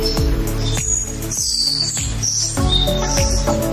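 Pet lovebirds chirp nearby in short, bright, repeated tweets over a busy background of household clatter and movement, the calls scattered irregularly through the stretch.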